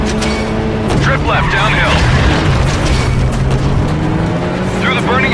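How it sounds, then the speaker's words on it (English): Explosions in the video game Stuntman: Ignition rumble loudly and continuously beneath a spoken direction, with deep booms and vehicle engine noise filling the scene. "Close to the explosion."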